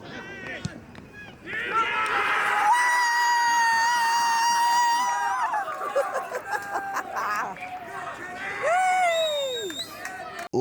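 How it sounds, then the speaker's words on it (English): A crowd at an AFL football game roars and shouts loudly and continuously, with piercing individual yells and screams rising above the din. "The crowd's getting right behind me here, as you can hear"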